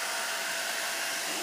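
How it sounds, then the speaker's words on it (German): A 600-watt hair dryer runs off a LiFePO4 lithium battery at -20°C, giving a loud, steady whooshing roar of fan and airflow that stays constant from start to finish. "Ich habe hier einen anderen Föhn."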